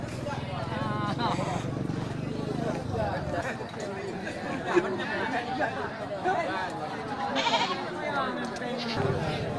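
Sheep and goats bleat repeatedly in a crowded livestock market pen, where many rams are gathered ahead of the sacrifice festival, with the calls overlapping a steady babble of people chatting nearby.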